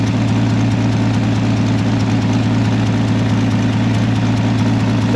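A vehicle engine idles while warming up on a winter day, a steady low rumble with a continuous even drone and fine vibration, close and unchanging, with no talk.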